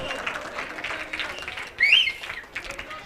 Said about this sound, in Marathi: शिस्तबद्ध संघ या संघासाठी एकदा जोरदार टाळ्या होऊन जाऊ द्या.